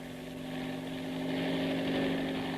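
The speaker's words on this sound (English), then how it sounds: "I ran across the heliport to Shockin's private helicopter." Steady mechanical drone of a private helicopter at a rooftop heliport in a radio drama, a continuous engine and rotor hum with strong low tones that holds level throughout, with no voices.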